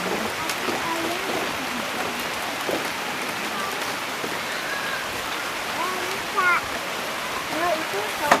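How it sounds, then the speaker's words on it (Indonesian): Heavy rain pours down steadily in an outdoor herbal garden, a dense hissing patter on surfaces with occasional splashes, while a few birds chirp faintly in the background. "Hujannya deras."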